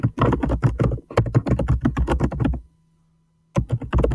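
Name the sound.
typing on a computer keyboard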